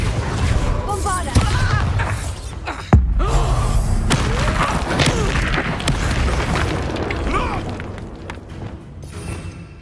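A Bombarda blasting spell in Hogwarts Legacy erupts in one heavy, sharp boom near the start, then rumbling combat effects and a voice carry on under steady game ambience.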